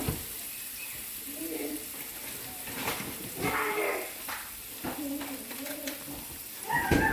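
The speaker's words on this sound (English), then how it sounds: "when you're frying jalapenos, you gotta stay back" Jalapenos sizzle quietly in a hot pan, a soft continuous frying hiss broken by scattered scrapes and clinks of stirring, fairly faint overall.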